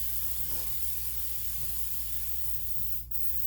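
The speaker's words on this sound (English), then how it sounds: "I'm going to go ahead and use our kitchen spritzer" Kitchen oil spritzer spraying the bottom of a pressure cooker pot set to sear, a single short hiss of spray near the end, close and fairly quiet over a low steady background hum.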